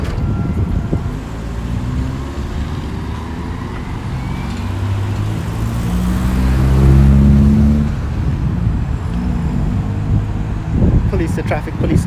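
Traffic at a busy city intersection, with a steady roar of cars and wind buffeting, and one vehicle swelling close and loud mid-way before fading into the general road noise.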